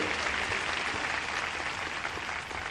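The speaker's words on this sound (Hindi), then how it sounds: "प्लीज जोर से हाथ दोनों जोड़ के ताली बजाते हुए उनका अच्छी तरह से यहां अभिवादन करेंगे" A large crowd at a big public rally claps steadily in welcome, a dense, even wash of applause filling the space without pause.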